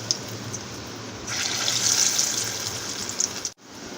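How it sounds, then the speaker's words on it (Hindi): Chicken shami kababs fry in hot oil with a steady, close, hissing sizzle that swells louder midway and then cuts off abruptly. "ये देखें कबाब फ्राई हो रहे हैं"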